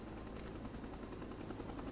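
A helicopter in the Resident Evil 4 game, a faint, steady rotor drone and whooshing wash holding evenly throughout with no talk.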